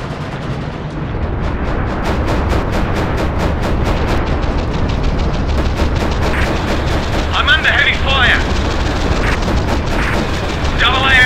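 Gunfire in the WWII air-combat game Flying Tigers: Shadows Over China, a long rapid stream of machine-gun bursts over droning aircraft engines, with metallic whines and impacts late in the clip.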